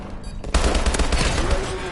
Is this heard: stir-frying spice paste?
no